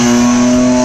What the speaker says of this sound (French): Le bruit avec le moteur Renault turbo